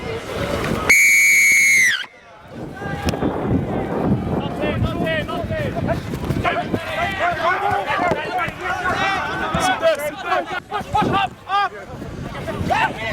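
A referee's whistle gives one long, loud, piercing blast at a premier grade rugby match at Tompkins Park, then gives way to wind noise, crowd sounds and a commentator talking.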